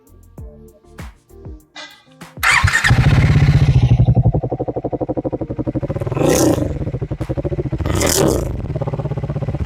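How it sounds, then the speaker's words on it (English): A Triumph Speed 400 motorcycle, recorded close to the exhaust, clatters briefly and then fires up into a loud, throbbing idle. Two sharp revs punch through the steady exhaust note. "I'll get you to hear the exhaust note."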